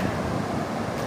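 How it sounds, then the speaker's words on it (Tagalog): Dense, roaring wind over the open sea with rushing waves, a continuous broad noise with no voices. "At pinalakas niya yung hangin dito sa karagatan at yung alon."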